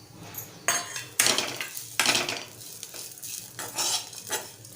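Coriander seeds sautéing in a pan, with a spoon clanking and scraping against the metal in irregular bursts over a low, steady sizzle, close and fairly loud with no voices.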